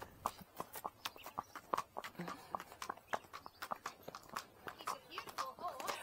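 Steady hoof clip-clops of a horse walking on a hard surface, an even close rhythm with faint talk underneath.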